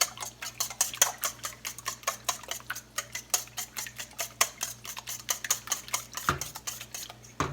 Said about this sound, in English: Let me get these eggs beat up first.